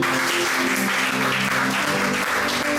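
A church congregation at a prayer night claps and cheers for the Lord, loud dense applause filling the room throughout with a hum of voices underneath.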